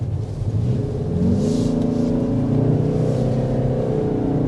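A 2025 Toyota Crown Signia in sport mode on a back road, with steady engine and road rumble that rises slightly as it accelerates, heard from inside the cabin with no talking.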